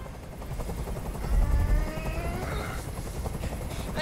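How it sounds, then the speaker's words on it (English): A helicopter drones in the video game Detroit: Become Human, a continuous whirring rotor noise with a low swell in the middle, steady and fairly loud without voices. "I can't stand that noise anymore. Tell that helicopter to get out of here."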